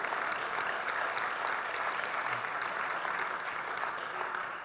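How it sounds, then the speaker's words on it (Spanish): A church congregation applauds strongly and steadily, a dense sustained wash of clapping that holds at an even level and tapers slightly at the end, with no speech over it. "Denles aplauso al Señor fuerte."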